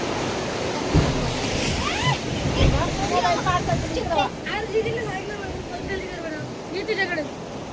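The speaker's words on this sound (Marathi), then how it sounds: "आम्ही आता समुद्रामध्ये आलेलो आहोत आणि समुद्राच्या या सगळ्या लाटेंमध्ये" Sea waves and wind rush continuously at Diveagar beach in Konkan, with people chattering and calling out over the surf throughout.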